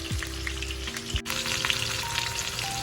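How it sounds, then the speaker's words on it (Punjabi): Spices for a boiled-potato dosa filling crackle and sizzle steadily in hot oil, a close, continuous frying hiss with a brief pause partway through. "ਇਹਦਾ ਜਿਹੜਾ ਤੜਕਾ ਮੈਂ ਤੁਹਾਨੂੰ ਦੱਸਦੀ ਹਾਂ ਕਿਵੇਂ ਲਗਾਉਣਾ ਹੈ"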